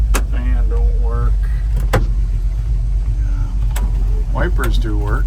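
A 1969 Ford F100 pickup idles with a steady low engine rumble that runs through the whole stretch, close and loud, while someone talks over it with a few sharp clicks in between.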